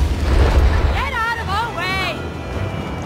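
A rumbling explosion in the video game It Takes Two booms low and sustained, while a voice talks over it in the middle.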